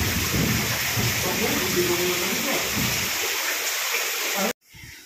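Heavy rain pours in a steady hiss, loud and close, under occasional speech, before cutting off abruptly at the end.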